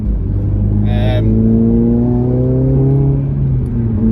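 A remapped Honda Civic Type R FN2 engine revs loudly up close, its pitch climbing and then holding steady as the motor hums.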